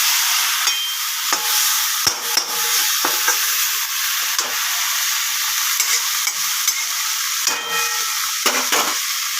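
Methi saag, fenugreek greens with their stems, fries in a pan and is stirred around, giving a steady close sizzle broken by scraping, clattering stirs with no talk.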